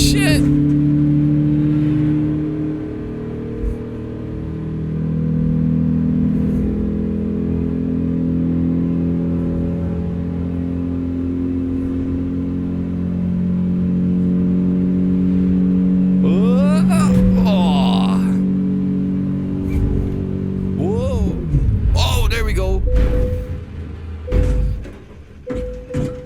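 A 2011 Volkswagen Polo GTI engine in American Truck Simulator revs hard and steadily for most of the clip, holding a loud sustained drone before sharp bursts and thuds near the end, with a voice talking over it at times.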